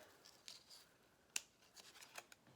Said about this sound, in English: we'll just snip off that